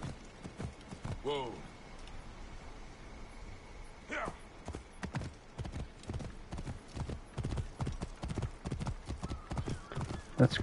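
Hooves clip-clop steadily at a walking pace in the video game Assassin's Creed Origins, with a horse whinnying briefly near the start; a voice talks over the hoofbeats.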